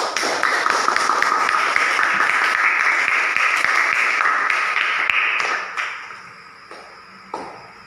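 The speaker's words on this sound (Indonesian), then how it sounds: "Tepuk tangan." A classroom applauds a group presentation with dense, lively clapping for about five seconds, then it thins out into a few scattered claps and taps.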